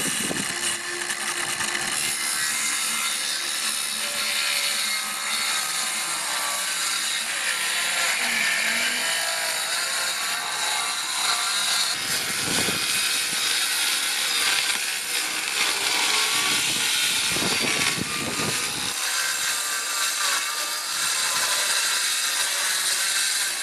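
A power saw freehand-cuts a long line through wood for a van floor build, droning steadily and close by with brief bursts of strain and no talk.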